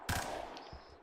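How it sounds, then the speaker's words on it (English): Gunfire in a scene being watched and commented on: one sharp loud burst at the start, then a continuing rough crackle fading into background noise over about a second. "And the gunfire begins!"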